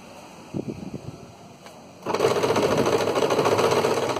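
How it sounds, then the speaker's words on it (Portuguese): Sewing machine stitching bias binding onto fabric, a few short taps and starts, then a steady close whir of continuous stitching running to the end. "vou começar a costura aqui, ó"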